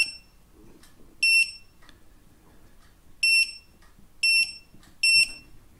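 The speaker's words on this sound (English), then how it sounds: "the beep is to tell you it's hit the temperature" A T12 soldering station gives four short, loud electronic beeps at irregular intervals over a quiet background as it reaches its set temperature.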